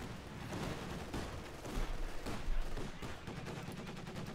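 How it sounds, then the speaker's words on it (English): Mortar fire in a Company of Heroes 2 battle during a slow infantry push into a cemetery, thudding amid dense, continuous gunfire and explosions, loud and busy throughout with no talking. "Got mortar firing down here on Zen Prime's very slow push here into the cemetery."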